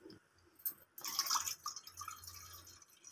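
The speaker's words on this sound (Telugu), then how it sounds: "ఇప్పుడు ఇది నీళ్ళు పోసి మనం పక్కన పెట్టుకుందాం" Water splashes and pours into a bowl of gond katira gum set to soak, a quick burst of pouring and dripping followed by softer trickles, close and fairly quiet.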